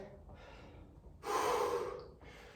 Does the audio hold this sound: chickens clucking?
no